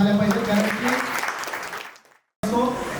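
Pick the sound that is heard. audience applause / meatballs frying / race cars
audience applause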